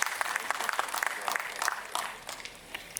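A conference audience applauds as a guest walks up to the stage at a tech keynote, steady crisp clapping with scattered sharp claps, fairly distant and fading slightly toward the end.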